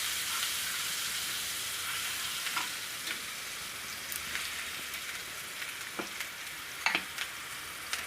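Whole cumin and chilies sizzle steadily in hot tempering oil while a spoon stirs them, giving a continuous bright frying hiss with occasional small clinks and pops, close and unaccompanied by speech.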